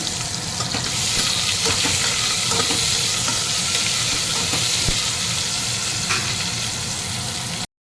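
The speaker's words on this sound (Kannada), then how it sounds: "ಬೆಳ್ಳುಳ್ಳಿ ಆಗಿದ್ಮೇಲೆ ಇದಕ್ಕೆ ನಾನು ಒಂದು ಈರುಳ್ಳಿ ಉದ್ದಕ್ಕೆ ಹೆಚ್ಕೊಂಡಿದ್ದು ಅದನ್ನು ಹಾಕ್ತಾಯಿದ್ದೀನಿ" Long-sliced onion dropped in with browned garlic keeps up a steady, dense sizzle, with occasional stirring scrapes and no one talking, until it cuts off near the end.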